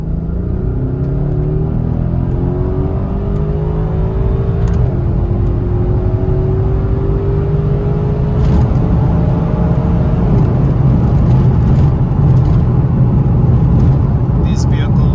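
A 2018 Mercedes GLC63S engine drones loud and steady from inside the cabin on a freeway ramp, its pitch climbing through several gear changes, with a voice talking over it.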